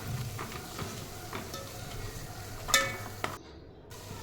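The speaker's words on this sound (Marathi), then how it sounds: "आता हा सुद्धा मसाला व्यवस्थित मिक्स करूया" Masala being stirred and mixed in a pan of oil for mutton curry, a soft scraping and light sizzle with a sharper metallic clink near the end before the sound cuts out.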